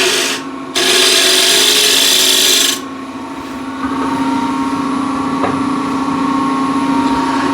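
A wood lathe truing up the top of a mahogany plate: a loud rough scraping cut for about two seconds, then a quieter steady motor whine as the piece keeps spinning.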